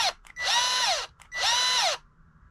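A cordless drill running on a cold-weakened battery aboard a sailboat in winter whirs in two sustained bursts, each winding down with a falling pitch, with short quiet gaps between them.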